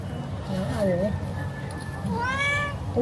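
A cat meows indoors at home, first one short call and then a longer rising meow near the end, both close and clear over a low background murmur.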